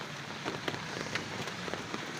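Rain patters steadily on a Toyota Vios with scattered louder drips, a continuous close hiss with no voices.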